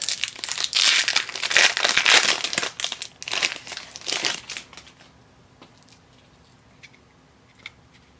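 A Magic: The Gathering Gatecrash booster pack wrapper torn open, loud close crinkling and crumpling of foil for about five seconds, then quiet with faint handling sounds.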